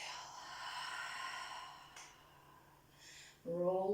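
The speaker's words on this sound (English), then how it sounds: "and exhale." A slow, breathy exhale during seated chair yoga, a soft airy rush lasting about two seconds, followed by a quieter stretch and then a brief louder voiced sound near the end.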